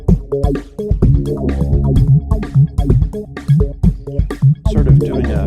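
Chorus ensemble effect on a wide range setting thickens a sustained synth or keyboard chord with a steady bass pulse, giving a shimmering, slightly fuzzy multi-tap doubling throughout, loud and alone.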